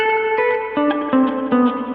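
A clean electric guitar plays a short melodic phrase through a digital spring reverb, drenched in springy, slightly boingy reverb, notes plucked one after another with no talking.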